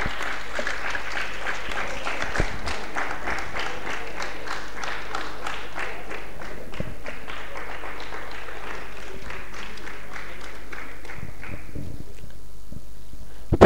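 Audience applause welcoming an honored guest at a Pt. Todarmal Smarak Trust gathering: sustained, even crowd clapping for over ten seconds, slowly thinning toward the end.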